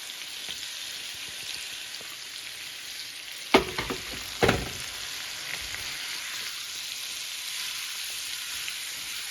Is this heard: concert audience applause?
no